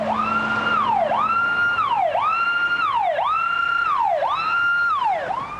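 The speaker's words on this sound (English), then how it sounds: "Even with your lights and sirens on" A loud ambulance siren wails steadily, its pitch sweeping up and down in a repeating cycle about once a second, with no voices over it.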